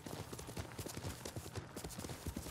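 Horse hooves galloping in the video game Ghost of Tsushima, a rapid, steady clip-clop of repeated hoofbeats, close and fairly loud, with no speech over it.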